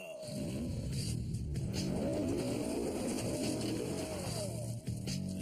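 A brand new Chevrolet Camaro with its anti-lock brakes disabled drives and corners on a course, engine revving loudly and continuously with brief tire noise, while a voice talks faintly underneath.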